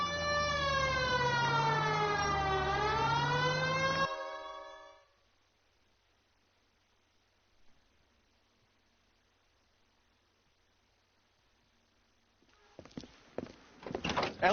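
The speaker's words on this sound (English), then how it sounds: "Hit the siren." A loud wailing police car siren in L.A. Noire sweeps up and down for about four seconds, then cuts off into near silence before engine and movement noises return.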